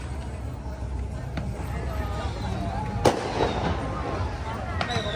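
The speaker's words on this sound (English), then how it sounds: "People are shooting off fireworks here too." Fireworks popping and cracking in the distance over a busy crowd murmur at the Loy Krathong festival in Chiang Mai, Thailand, with one sharp louder bang midway.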